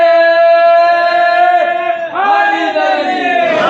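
Crowd at a Shia religious gathering at Hussain Tekri Sharif chanting the Naara-e-Haidari slogan in a loud, sustained unison cry of many voices that swells then falls away, close and dominant.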